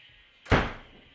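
A cupboard door slams shut in a draught from open windows, one sudden, sharp bang that decays quickly, fairly close, with no talk over it.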